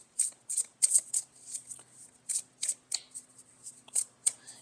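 Tarot cards shuffled by hand up close, a quick irregular run of crisp riffling flicks and soft slaps, fairly quiet against a silent background.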